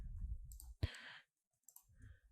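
A computer mouse clicked while working in progeCAD software: one sharp, close click stands out in a quiet room, with soft murmuring before and after it.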